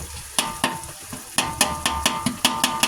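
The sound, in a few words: butter sizzling as it is stirred into chowmein and fried rice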